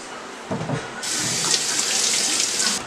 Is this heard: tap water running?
yes